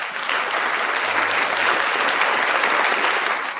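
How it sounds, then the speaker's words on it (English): A crowd gives a round of applause at a live show, with dense, steady clapping that holds loud and even for a few seconds before tapering slightly at the end. "let's throw a round of applause"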